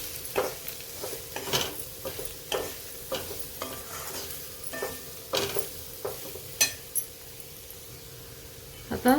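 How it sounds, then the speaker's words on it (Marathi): Masala being sautéed in a pan for a toor dal and onion dish, with soft stirring scrapes and a low sizzle, spoon strokes repeating unevenly, close and fairly quiet. "आता मसाल्याला अजून आपण चांगलं परतून घेऊ"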